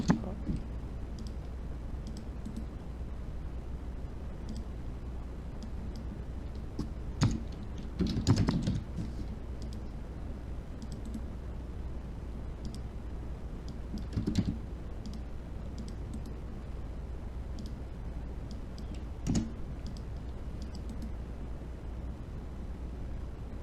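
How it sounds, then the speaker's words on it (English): Computer keyboard typing and mouse clicks during a logic design lab on a computer, steady close-up key taps with a few louder click bursts over a low background hum, no talking. "We right click and rename the port."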